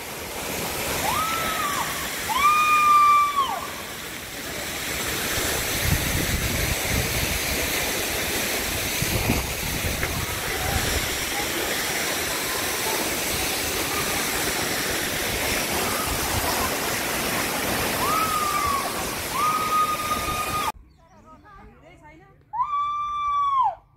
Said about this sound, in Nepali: नजिकबाट मोहिनी झरना है